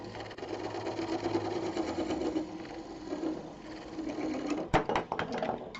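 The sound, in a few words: wood lathe turning tenon on recycled plastic blank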